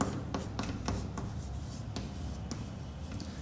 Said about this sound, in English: I'll just write it here.